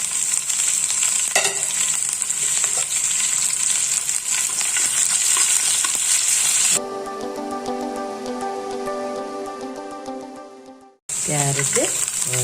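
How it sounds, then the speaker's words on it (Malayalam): Curry leaves and green chillies fry in hot oil for a masala idli breakfast, giving a loud, constant sizzle. A humming, tonal noise briefly interrupts it before the frying returns. "അപ്പോൾ അത് മൂത്ത് വരുമ്പോഴത്തേക്ക് കുറച്ച് കറിവേപ്പില ഇട്ട് കൊടുക്കാം."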